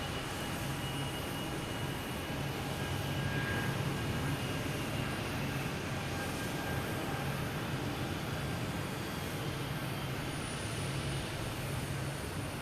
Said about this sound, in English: We have JetBlue heading to JFK, an A220.